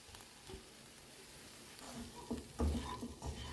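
Paneer and vegetable filling being tossed in a pan with the heat off, faint scraping with a few soft clinks of a spoon that grow a little louder toward the end, no voices.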